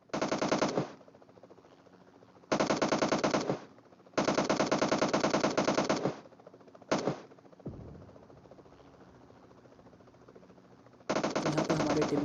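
Automatic gunfire in a battle royale game's payload mode, with loud sustained bursts separated by short gaps and a final burst after a quieter stretch.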